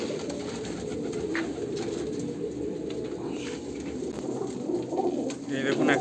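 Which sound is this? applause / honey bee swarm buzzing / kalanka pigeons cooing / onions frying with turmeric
kalanka pigeons cooing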